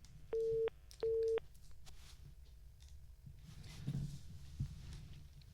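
Two short, evenly spaced beeps of a phone busy tone after a disconnected call on a radio farming show, clear and fairly loud, followed by quiet line noise and a faint murmur.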